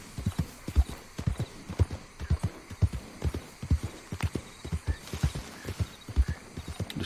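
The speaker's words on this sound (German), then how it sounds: "Aber ein bisschen reiten wir noch, auf jeden Fall aus dem Sumpf raus." A horse ridden at a steady gait out of a swamp in Red Dead Redemption 2 gives a continuous rhythmic clip-clop of hooves, close and clear, with no talking over it.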